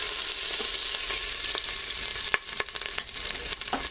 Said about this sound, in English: This meat is brown. This pot is spitting at me.